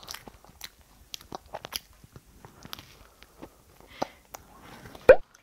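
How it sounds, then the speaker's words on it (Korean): A 33-month-old toddler bites and chews a homemade waffle close up: soft crunchy bites and wet chewing in irregular bursts with quiet gaps between them, ending in a louder crunch. "엄청 잘 먹네, 이루다."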